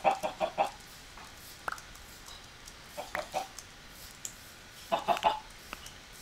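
Chickens in the Minecraft video game give short clucks in small bursts, several quick clucks close together, then a pause before the next burst.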